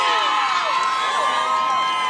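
An excited crowd at a Lake Mary community event, a dense wash of cheering, whoops and high shouting voices, including children, sustained at steady moderate loudness throughout.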